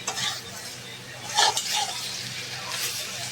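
Chicken with white vinegar and spices stirred in a pan, soft scraping and light sizzling with a few brief utensil clinks, close and fairly quiet.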